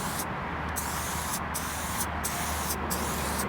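Spray paint can with a Silver Fat cap spraying flame blue, a steady loud hiss with short breaks between bursts.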